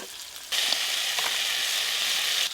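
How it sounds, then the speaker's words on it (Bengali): Pieces of fish fry in hot oil, a bright, hissing sizzle that starts abruptly and holds loud and steady at close range before cutting off, no talking. "এই মাছগুলো যা আছে দুবারে ভাজতে হবে।"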